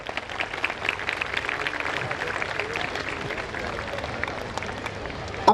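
A school audience applauds a five-year-old senior KG child after a long dance, a sustained, fairly loud wash of clapping from many hands that runs evenly throughout.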